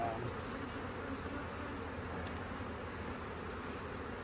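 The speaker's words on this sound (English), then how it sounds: "The bee population's good." Honey bees hum around an overwintered hive with a new queen, a steady, even drone of many wings filling the air without pause.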